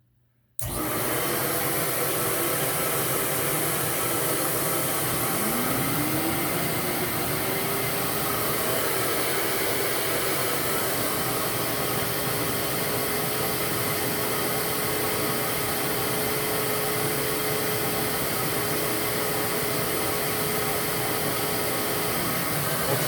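A Metropolitan vacuum cleaner with a power nozzle switches on and roars at high speed, a loud, steady whine and rush of air, with a faint tone rising and holding throughout, no voices.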